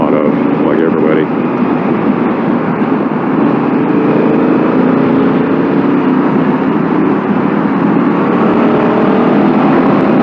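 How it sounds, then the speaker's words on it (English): Steady, loud wind roar buffets a motorcycle helmet while riding a Honda Africa Twin on the road, a broad continuous rush with engine drone beneath, nearly unbroken for the whole stretch. "you hear that the wind is blasting in your ears inside your helmet"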